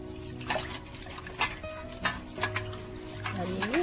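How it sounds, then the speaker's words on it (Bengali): Neem leaves are rubbed and washed by hand in water, giving soft, intermittent splashes and swishes at an uneven rhythm, close by and fairly quiet, with faint background sounds underneath. "ধুয়ে নেবো ভালো করে ডলে ডলে পাতাগুলো"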